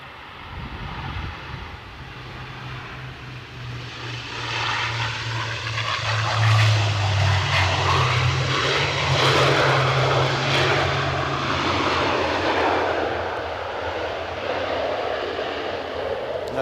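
ATR 72 turboprop airliner landing in gusty 40+ mph wind at Edinburgh Airport: a loud, steady propeller and engine drone with a low hum builds over about seventeen seconds, mixed with broadband wind roar and no talk.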